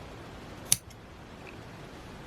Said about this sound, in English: taking our scissors again, we're just going to cut the tops of those loops